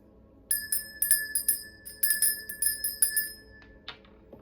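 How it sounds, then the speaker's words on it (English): A small bell is struck again and again, each ring bright and clear, falling into short bursts of rapid strikes with brief pauses between them and a fading ring at the end. "I'm going to go ahead and begin by ringing the bell."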